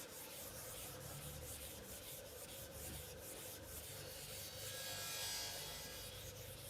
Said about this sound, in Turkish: 400 numara zımparayla olayı sonlandıracağım